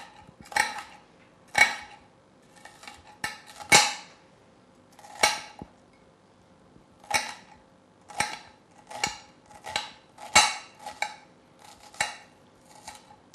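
A knife chops onion on a cutting board for a Mediterranean pasta salad, giving a dozen or so sharp, irregular knocks that ring with a light clatter, close and fairly loud with quiet gaps between the strokes.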